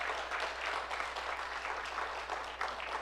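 A church congregation at a Sunday Christmas service claps to welcome two new members, a soft, steady patter of many hands heard at a distance with a low hum beneath.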